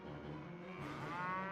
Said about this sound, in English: You guys all hear the almighty moo come from the heavens above